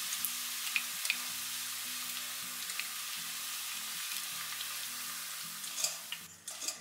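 Cauliflower pieces frying in hot oil for crispy chilli cauliflower, a steady close sizzle with faint crackles that holds for several seconds and then fades near the end.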